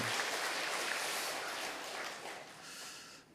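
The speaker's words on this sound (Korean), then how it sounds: "우리 다시 한번 영광의 박수 하나님 앞에 올려드리겠습니다" Church congregation applauding after a worship song at a Sunday service, a steady wash of clapping that holds, then thins and fades toward the end.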